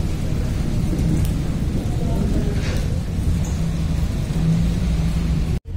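Heavy rain hisses steadily and close at a mountain meadow campsite on a motorbike road trip to Siri Paye near Skardu, with a faint distant thunder rumble underneath; no one speaks.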